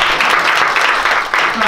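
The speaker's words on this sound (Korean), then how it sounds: "미니 패션쇼를 보여준 우리 모델들한테 박수 한번 보내주세요" Brief burst of audience clapping for models after a mini fashion show opening, dense and fairly loud, with a voice faintly mixed underneath.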